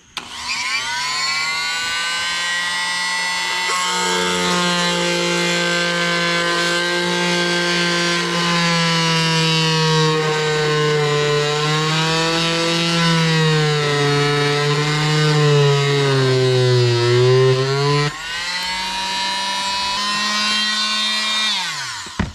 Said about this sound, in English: So we're gonna use the good old multi-tool on this here.